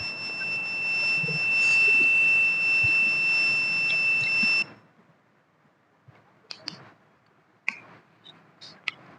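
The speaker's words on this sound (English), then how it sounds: "LED and buzzer turn on to alert the user." A buzzer on a homemade rainfall measurement system sounds a steady electronic tone for several seconds as a heavy-rain alert, then stops, leaving faint ticks and clicks.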